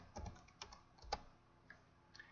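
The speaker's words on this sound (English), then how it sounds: "I just type in the word checked." Someone types on a computer keyboard, producing a few quiet, irregular key clicks in small bursts with soft pauses between them, close by and without speech.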